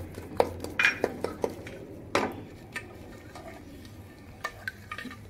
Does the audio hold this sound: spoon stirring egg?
yes